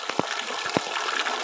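Water streams steadily from the Tindhara stone water spouts, a continuous rushing splash with a couple of brief heavier gushes, heard close and with no voices.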